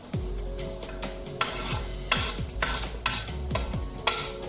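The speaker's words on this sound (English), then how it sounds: "Now I'm going to put the kale and spinach in that I've chopped up nicely" Chopped kale and spinach stirred into a hot pan: repeated scraping strokes of a utensil against the pan, several distinct sweeps over a steady close sizzle, with no talking.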